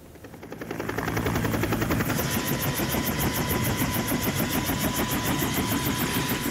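A search-and-rescue helicopter deployed in Mimika, Papua Tengah, thuds with rapid, steady rotor beats that swell as its engine spins up, then hold loud and close with no talking.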